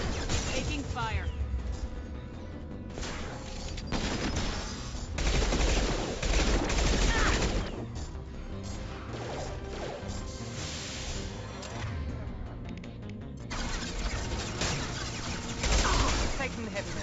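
Gunfire in a sci-fi shooter firefight, with dense, continuous bursts of automatic fire and crashing impacts filling the whole stretch at a loud, steady level, mixed with game sound effects.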